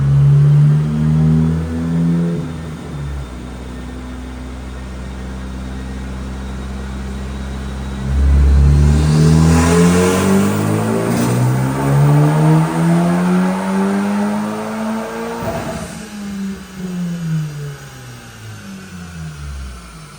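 A Hyundai Elantra N fitted with a Black Series GTS piggyback race chip makes a full-throttle dyno pull, its engine climbing loudly through the revs, then backing off and winding down, close and alone.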